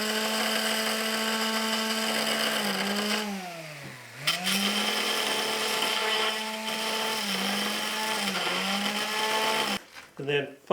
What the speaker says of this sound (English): So I switch over to the palm sander.